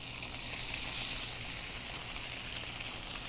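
Salmon sears in hot olive oil in a pan, a steady close sizzle that stays loud and even throughout.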